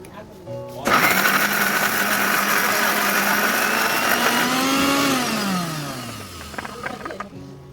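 An electric grinder grinds dried red chillies and spices into a paste, a loud steady motor whir that starts abruptly, runs evenly, then winds down with a falling pitch as it stops.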